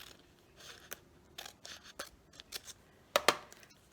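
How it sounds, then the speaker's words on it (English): Scissors cut a strip of paper in half while a creative journal page is being made, giving a few soft snips and rustles, then a sharp, close double snip near the end. "let's cut this guy in half."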